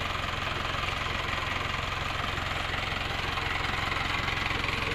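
A 4x4 off-road owner-type jeep engine idles close by with a steady, rapid knocking pulse and even vibrating drone, loud and unchanging throughout.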